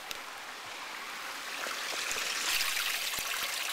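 A backyard pond waterfall runs with a steady, close, hissing rush of falling water that swells slightly louder toward the end, with a few small splashes and no talking.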